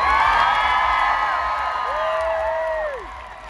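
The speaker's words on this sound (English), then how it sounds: "Give a fucking big round of applause to them." A large crowd at the Austin City Limits music festival cheers, whoops and applauds after a performance, a loud roar full of shrill shouts and screams.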